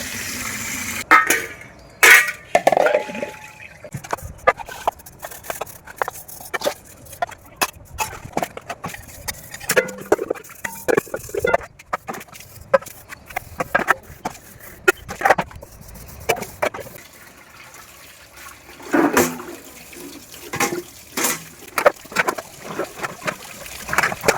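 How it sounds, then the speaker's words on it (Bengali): Dishes, pots and utensils washed with water at home, with irregular clinks, knocks and splashes of metal and crockery close by through the clip, alone without talk. "এখন এই যে সব জিনিসপত্র থালা বাসন আছে, ফার্স্টে ধুয়ে নিই"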